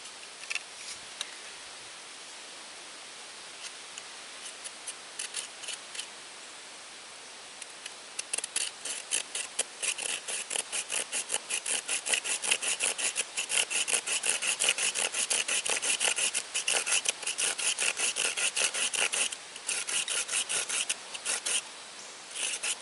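Sawing through the wooden fork of a handmade bushcraft slingshot, steady rasping back-and-forth strokes that start soft and grow louder and faster, close up with no talk.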